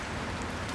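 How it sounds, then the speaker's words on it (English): Steady rain falling outdoors, a dense even hiss of drops with no distinct patter, faint and continuous throughout the short moment with nothing else audible. "Starting to rain again"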